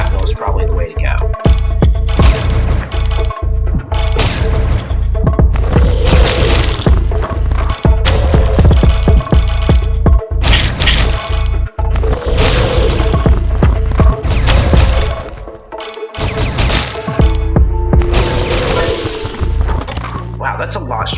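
Rapid gunfire with ricochet and shrapnel effects in the video game Disfigure, loud sharp cracks and bursts in quick irregular volleys over a dense game soundtrack, with a brief lull before firing resumes.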